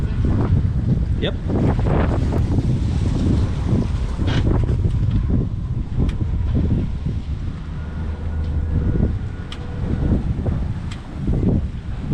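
Strong crosswind gusting at around 50 knots while a 50-foot FP Saba 50 catamaran docks, a steady loud roar buffeting the microphone throughout, with low engine rumble and occasional short voices beneath it.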